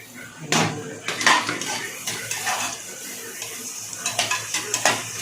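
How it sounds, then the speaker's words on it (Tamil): Tomatoes sautéing in a pan for veg noodles sizzle softly while a spatula clinks and scrapes against the metal in irregular bursts, close and fairly loud. "தக்காளி சும்மா லைட்டாக வதங்கினா போதும்"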